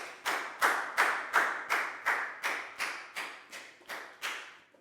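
Primary school pupils in a Year 4 maths classroom clap together in a steady, even rhythm, about ten sharp claps spaced roughly half a second apart, fairly close and without talk.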